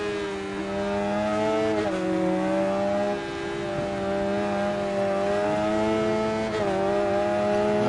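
Racing motorcycles in the video game Ride 4 during an endurance race, with a steady high-revving engine drone whose pitch dips and climbs at gear shifts as one bike overtakes another, loud and continuous throughout.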